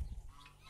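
Geese honk on a farm in a single short, loud burst of fowl calls, close to the listener.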